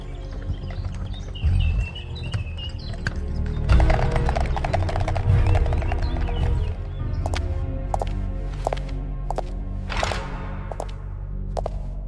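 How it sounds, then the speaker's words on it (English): A horse-drawn carriage rolls along with hooves clip-clopping in a steady rhythm, loud and close, over a dense rumble of wheels, with bird chirps and occasional sharp accents joining partway through. "She climbed into the carriage, and they rode to the royal palace."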